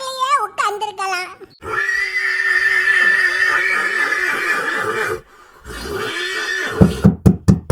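A cartoon horse gives a loud, quavering whinny, then a long, sustained shrill neigh that cuts off, a short second neigh, and clattering knocks at the end, with talking in between.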